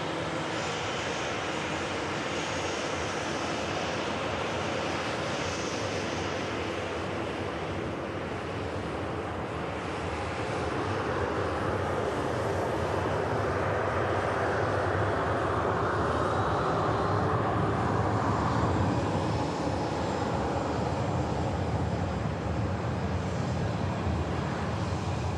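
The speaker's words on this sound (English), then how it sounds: "Cathay Pacific lining up, A320 taking the holding point behind" Aircraft engines rumble on the runway at Manchester Airport as a Cathay Pacific jet lines up and an A320 holds behind, a steady broad roar with wind-like hiss that swells gradually toward the end, no voices.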